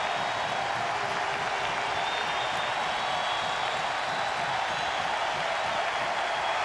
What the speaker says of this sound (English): Sellout crowd at Fenway, many getting up